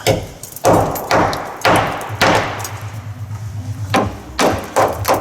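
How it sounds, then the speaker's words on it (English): Chisel hammered into rotten metal on old bus bodywork, a run of loud, sharp metallic blows in an uneven rhythm, some spaced and some in quick bunches, close by with no talk. "the chisel's doing a good enough job of it"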